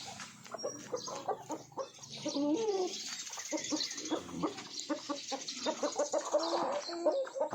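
A broody hen clucking and murmuring close by, a series of short throaty calls with soft rustling around them.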